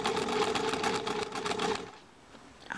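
A sewing machine stitches a sailor dress for a baby, running in a steady buzzing burst for under two seconds before stopping, close and fairly loud, with a faint click at the end.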